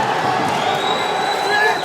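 Spectators roar steadily in the penultimate round of a professional boxing bout at The Olympia in Liverpool, with a sustained loud wash of cheering and a faint rising whistle.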